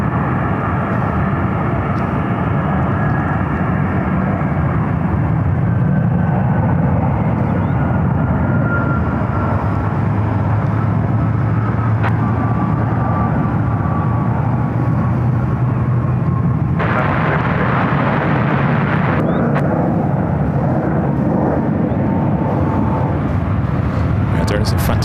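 A jet airliner roars on its takeoff roll down runway 28 Right at San Francisco International Airport, a steady broad engine rumble that holds throughout, with a voice talking over it.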